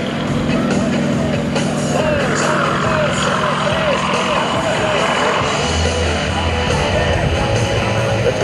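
Propeller airplane engine performing at an airshow at PDK airport in Atlanta, a loud steady drone with low throbbing tones holding throughout, with crowd and announcer speech layered over it.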